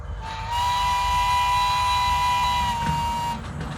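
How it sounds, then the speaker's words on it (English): A model railroad logging train runs as a loud, sustained steam-style whistle holds a steady tone for about three seconds over a low rumbling of the running train, then cuts off. "there was a logging train heading towards the Trestle Bridge"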